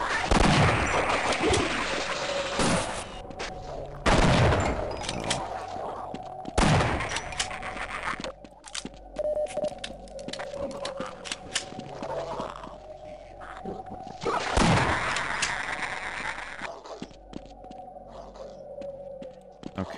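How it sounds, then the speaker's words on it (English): Shotgun blasts in the video game Half-Life fire in loud, spaced bursts over a steady droning game background, with several heavy booms across the stretch and no voice heard. "Alright, back to the shotgun."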